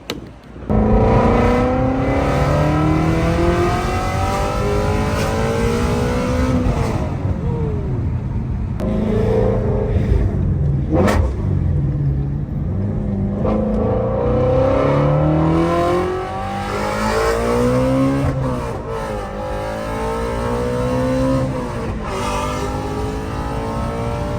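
A Shelby GT350 with Kooks headers and an X-pipe, running on E85, drives continuously with a loud, rumbling V8 exhaust that rises and falls through gear changes and revs, heard from close by with no talking.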